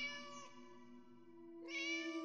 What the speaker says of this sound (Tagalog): Nang biglang yung pusa ng landlady namin nagngiyaw sa hallway.